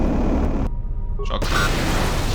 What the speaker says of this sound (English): I'm gonna throw a grenade at them